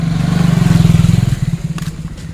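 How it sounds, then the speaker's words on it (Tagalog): A motorcycle passes close by on the Macabalo esplanade in Legazpi City, its engine throbbing loudly with a fast pulsing beat, then thinning and fading as it moves away. "May mga motor din pala dito dumadaan."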